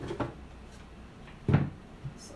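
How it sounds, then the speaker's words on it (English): A wooden drawer slides out of an old cabinet being painted in a distressed finish, with a few short wooden knocks and a heavier clunk as it comes free, close and fairly quiet. "I'm gonna take the drawer out"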